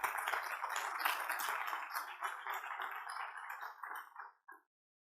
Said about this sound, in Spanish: Denle un aplauso, Señor, por las hermanas que hicieron esta representación.